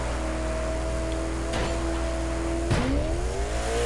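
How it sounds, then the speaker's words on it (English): A fast car in a video game drives with a steady, loud engine drone, with two sharp whooshing passes and a brief tire squeal partway through, and no talking. "Oh my gosh, this car is so fast."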